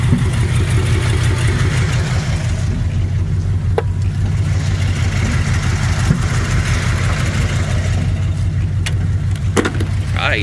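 A 1972 Chevy K20 truck engine runs steadily at idle, a deep low rumble throughout with a few sharp pops near the end.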